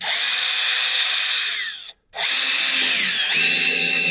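A power drill drives screws to fix a bucket onto a workbench in a garage, whining loud and steady in two long bursts separated by a short pause, with the motor pitch sliding as each screw seats.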